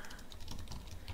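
Fast typing on a computer keyboard, a quick run of soft, closely spaced key clicks at low volume, with no voice over it.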